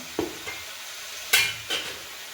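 Chicken dropped into a hot pan for a homestyle Kerala chicken curry: a soft clatter, then two sharp sizzling bursts as pieces hit the oil, over a faint steady frying hiss.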